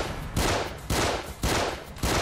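Gunfire in the video game The Assignment: four heavy, booming shots fired at an even pace, each with a long echoing tail that fills the gap before the next.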